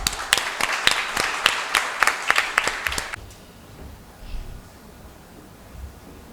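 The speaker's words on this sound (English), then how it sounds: "our Dean, Dr. Manas Ranjan Malik Sir, to escort the guests to the dais with a huge round of applause." A large audience at a college annual function gives a round of applause to welcome guests to the dais, a dense burst of clapping for about three seconds that then stops, leaving faint room noise.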